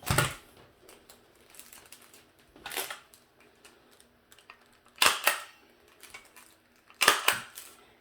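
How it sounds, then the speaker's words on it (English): A stapler fastens a folded paper topper onto a goody bag, making several sharp, close clacks and crunches separated by pauses, alongside faint rustling of paper and no talk. "I'm going to staple it with a stapler"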